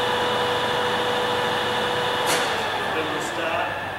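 Spindle of a Summit BHM4 horizontal boring mill running, a steady machine hum and whine with faint clicks, under a continuous background drone.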